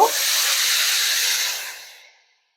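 Water poured into hot semolina roasting in a pan bursts into a loud sizzling hiss of steam that quickly fades away over about two seconds.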